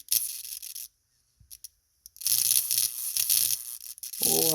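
A 150kV flyback driver throws a high-voltage arc that crackles and sizzles in harsh bursts. It cuts out for about a second, then returns as a sustained buzzing hiss.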